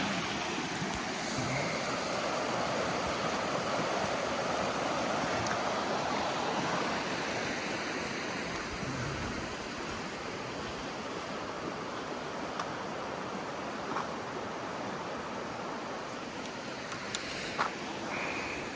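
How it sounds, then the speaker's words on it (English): The Jamison River flows through an alpine valley in Alpine National Park, a steady broadband rush of running water heard from a distance, constant and moderately loud, with light wind and no voices. "I think this is Jamison River there"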